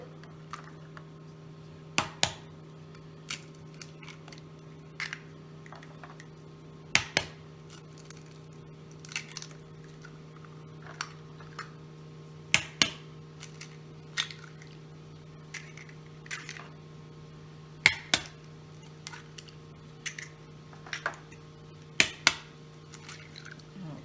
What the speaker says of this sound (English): Go ahead and crack 6 eggs into our bowl.